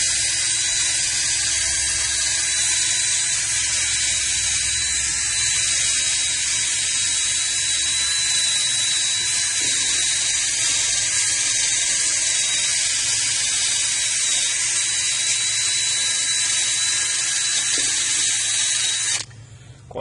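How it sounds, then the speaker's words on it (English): An electric drill runs continuously for about twenty seconds during a car battery terminal repair, a steady high-pitched whine with a buzzy mechanical edge, close and loud, then it stops abruptly. "I'm gonna get my electric drill out here."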